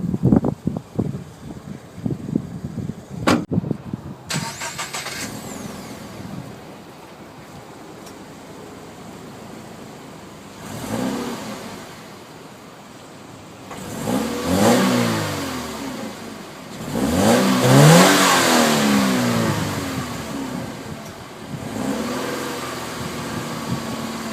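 A 2013 Subaru BRZ engine fires up, then revs hard in several rising bursts, loud and close, with idling between the throttle blips.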